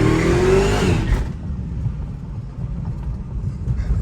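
An 850 wheel-horsepower Hellcat-powered car does a rolling burnout, opening with a loud, close engine roar and high whine for about a second. The sound then drops to a lower, rough rumble with tire and exhaust texture.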